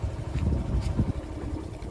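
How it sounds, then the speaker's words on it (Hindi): Motorbike engine while riding through a small hilly village in Raigarh district, India, a steady low rumbling drone with some wind buffeting, close and continuous. "और हमारे साथ में हमारे देव नारायण जी हैं जो बाइक चला रहे हैं।"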